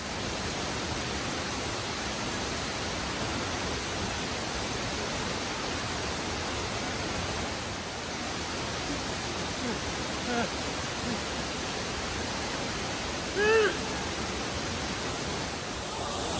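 Abiqua Falls, a 92-foot waterfall near Scotts Mills, Oregon, roars as a steady, loud broadband rush of falling water that holds unbroken throughout, with a brief faint sound near the end.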